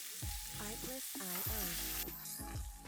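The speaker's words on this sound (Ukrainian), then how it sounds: "смажуємо м'язко з усіх сторін до такої легко золотавої скоринки" Beef searing in a hot pan with butter and rosemary, browned on all sides to a light golden crust for Beef Wellington; a steady close sizzle and stir runs throughout beneath melodic tones.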